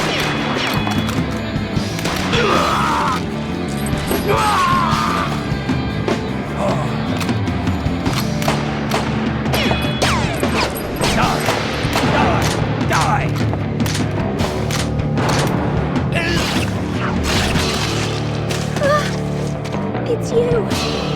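Gunfire in the Shadow Hearts video game comes as loud, rapid cracks and crashes over a busy backdrop of music and effects, with voices speaking throughout.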